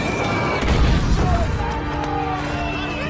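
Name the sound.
bombs exploding, dropped by German fighter planes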